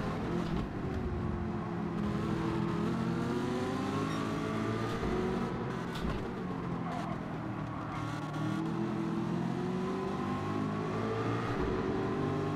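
Race car engines in a Gran Turismo video game race whine and rev continuously, pitches rising and falling as cars accelerate and pass, with no voices over the engine roar.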